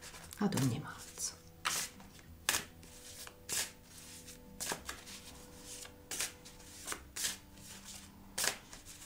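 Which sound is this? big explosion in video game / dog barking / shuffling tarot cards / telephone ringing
shuffling tarot cards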